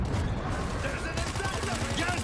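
Gunfire in the zombie shooter World War Z crackles in rapid bursts through the second half, rattling beneath steady talk from players chatting in Swiss German.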